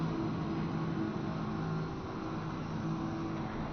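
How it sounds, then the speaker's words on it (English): A Mercedes GT race car engine roars steadily in a broad, gritty drone, holding a constant loud pitch with a slight dip midway, no voices. "Love the sound of that Mercedes."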